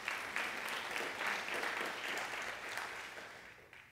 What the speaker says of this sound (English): And while you're clapping, put your hands together for Terry, who is handling the sound.